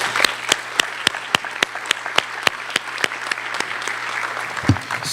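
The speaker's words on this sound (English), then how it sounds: "let's give them another round of applause." Audience applause at a school retiree recognition event, a steady wash of many hands clapping with sharp individual claps standing out, sustained for the full stretch and fading slightly near the end.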